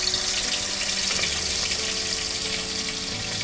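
Onion paste dropped into hot oil for a tilapia fish curry, making a loud, steady, close sizzle that fills the whole stretch without talk.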